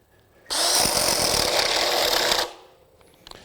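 DeWalt 20V cordless drill with a 1-inch spade bit boring into the end grain of a 6x6 timber, a loud close-up whine with chattering cutting noise lasting about two seconds before stopping abruptly.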